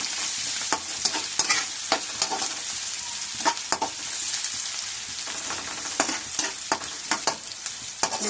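Rice, half a kilogram, frying with onion and garlic in a pan, a steady broadband sizzle broken by repeated scraping stirs, close and fairly loud with no talking.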